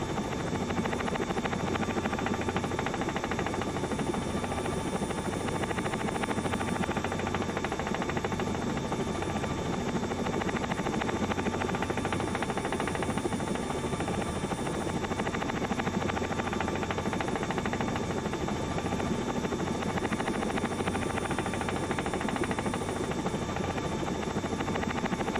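Helicopter in flight during a training lesson, climbing out along the runway heading over London, its steady rotor and engine drone filling the cabin, continuous and loud with a faint rhythmic blade thump underneath, no talk.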